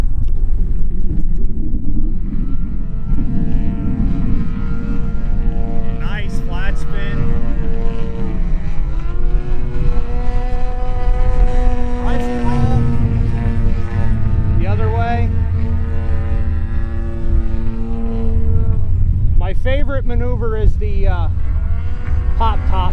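A 50cc Extra 330LX RC aerobatic plane from Seagull Models drones loudly and steadily, its engine pitch sliding up and down as it goes into a flat spin, with wind buffeting the microphone throughout.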